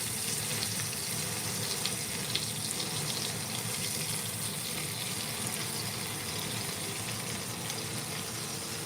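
Chuck roast searing in a pan with onions gives a steady, close, even sizzle that holds at one level throughout with no talk.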